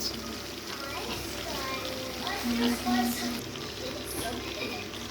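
Chicken frying in a pan with tomatoes and salt added, a steady soft sizzle and light stirring throughout at moderate volume.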